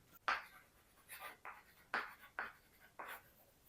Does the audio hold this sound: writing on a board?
yes